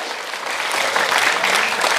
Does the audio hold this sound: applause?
yes